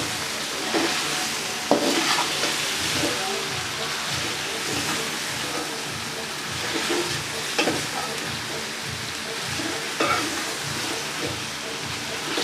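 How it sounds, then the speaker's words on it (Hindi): Potatoes frying in a pan for aloo baingan, a dense steady sizzle with rhythmic stirring and scraping strokes repeating through the stretch, close and fairly loud. "आलू को अच्छे तरीके से फ्राई करेंगे।"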